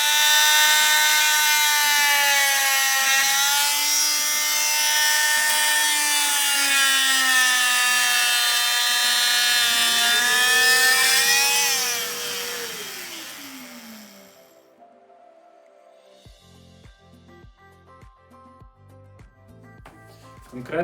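Loud, high-pitched buzzing whine of an oscillating multi-tool cutting wood while fitting an interior door, its pitch dropping as it winds down, followed by quieter clicks and taps.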